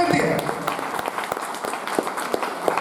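A seminar audience in Varanasi breaks into clapping, a fairly loud burst of applause that fills the room and gradually thins into scattered claps.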